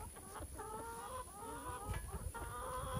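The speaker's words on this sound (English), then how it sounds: "The chickens are all excited because they want to get out and they are ready to eat." Excited chickens clucking in a small coop, eager to get out and eat: a close, continuous chorus of overlapping clucks and squawks from several birds.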